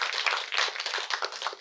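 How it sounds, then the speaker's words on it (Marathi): An audience claps to welcome a teacher at a college Shivaji Jayanti program, a short, dense burst of many hands beating steadily together. "सगळ्यांनी टाळ्या वाजवून मॅडमचं स्वागत करावं."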